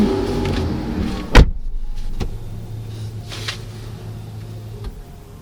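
Power seat motor in a 2023 Hyundai Palisade running its memory seat function: a sharp click, then a steady low electric whir for about three seconds before stopping.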